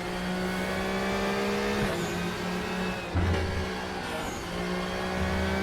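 A race car engine in the RaceRoom racing game at Laguna Seca drones loudly and steadily, with pitch shifts and brief revs as the throttle changes, and no talk over it.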